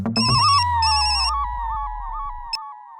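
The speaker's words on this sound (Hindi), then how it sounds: "ये थापा फोन क्यों नहीं उठा रहा?" A telephone rings with an electronic ringtone, two bright chirping bursts followed by a steady warbling tone that continues alone, with a brief sharp click near the end, heard indoors in a Hindi comedy setting.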